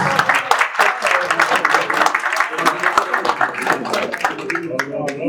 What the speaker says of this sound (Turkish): Bir alkışlayalım arkadaşlar.